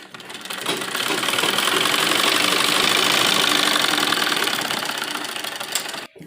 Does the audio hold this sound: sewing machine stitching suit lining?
yes